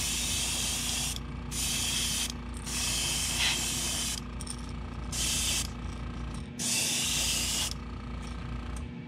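An aerosol can sprays clear coat onto painted fishing crankbaits in several short hissing bursts of a second or so each, close and loud, separated by brief pauses over a steady low hum.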